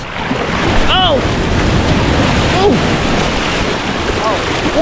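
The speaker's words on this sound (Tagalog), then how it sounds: "May alon!" Waves slosh and crash against a small boat that capsizes amid gusty wind noise, with people shouting and exclaiming over the rush of water.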